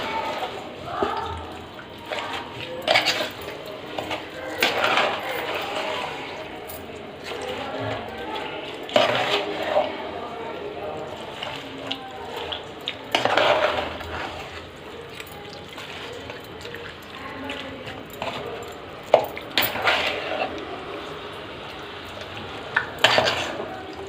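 Homemade magaya, a Telugu mango pickle, being stirred by hand with chilli powder and oil, giving repeated wet squelching and scraping bursts at an uneven rhythm, close and fairly quiet.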